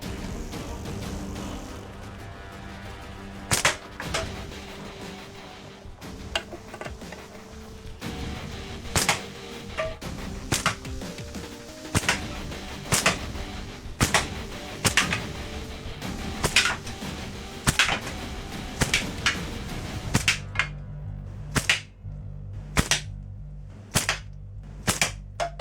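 Sharp, loud cracks of slingshot shots striking a target come about a dozen times at irregular intervals, with an aluminium core laminated slingshot. Background clatter sits under the first part, and the later impacts stand alone against quiet.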